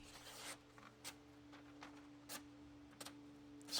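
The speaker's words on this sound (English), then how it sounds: "So I tested on some paper, and it slices through the paper pretty well." A knife, sharpened on homemade sharpening stones, slicing through paper. A handful of quick, faint rasping swipes are spaced a second or so apart and heard close up in a quiet room.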